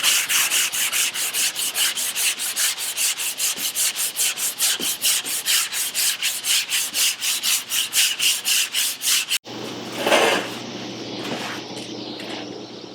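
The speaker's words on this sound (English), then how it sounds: "You don't need to put any more pressure to file off your mud. Your sandpaper will do that." Body filler on a lowrider car panel is block sanded with fast, rhythmic back-and-forth rasping strokes, close and loud, ending abruptly before a brief rougher scrape.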